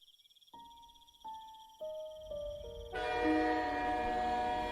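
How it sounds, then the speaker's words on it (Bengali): A night local train rolls into Madhupur station with rising rumble and steady tonal hums stepping up, then a broad mechanical roar as it pulls alongside; insects chirp faintly beneath. "আজও রাত 8টার লোকালটা মধুপুরে এসে দাঁড়ালো"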